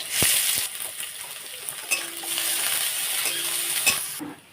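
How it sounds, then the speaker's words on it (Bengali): Garlic, ginger and onion fry in hot oil in a kadai, giving a close, continuous sizzle with a few sharp clinks of a stirring utensil against the pan. "তেলের মধ্যে দিয়ে দেবো প্রচণ্ড রসুন আদা পেঁয়াজ"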